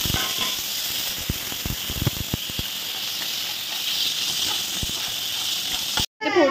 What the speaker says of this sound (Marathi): ते फोडणीला थोडा कढीपत्ता टाकते